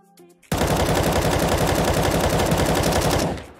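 Sustained automatic rifle fire in CS:GO from a stationary shooter, a dense rapid burst of shots lasting about three seconds at steady loudness, then cutting off abruptly.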